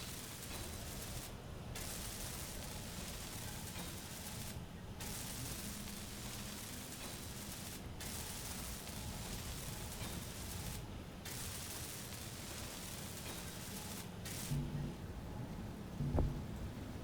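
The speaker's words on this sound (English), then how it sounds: "let's weld in a few blocks" Blocks being welded in the Space Engineers video game: a steady, loud hiss runs nearly the whole time, broken by brief gaps, with a few small clunks near the end.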